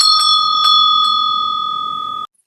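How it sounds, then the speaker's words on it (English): A bright notification bell chimes in a clear ringing tone with a few quick strikes early on, then sustains and decays before cutting off abruptly, loud and alone. "turn on the notification bell so you could get notified whenever we post any tutorial"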